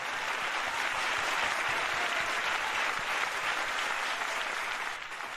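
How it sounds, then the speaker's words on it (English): An audience at a peace festival claps steadily in a hall, a thick sustained wash of many hands at even loudness that starts to fade near the end. "another round of applause"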